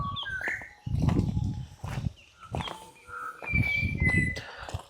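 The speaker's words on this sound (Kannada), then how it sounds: "ಅಲ್ಲೊಂದು ಪಕ್ಷಿ ಕೂಗ್ತಿದೆ, ಕೇಳಿಸ್ಕೊಳ್ಳಿ" A forest bird on the Kodachadri trek in Karnataka gives several short whistled calls, moderately loud and spaced out, mixed with low thumps and rustling nearby.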